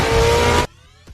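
A car in a film scene accelerates hard at high speed, a loud roaring engine with tyre noise that cuts off abruptly after about two-thirds of a second, leaving near silence.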